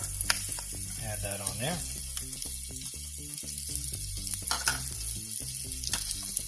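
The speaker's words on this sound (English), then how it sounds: "I'm going to add the butter and garlic." Butter and garlic sizzle steadily in a hot pan under a voice, with a spoon scraping and tapping against the pan as the garlic is stirred around.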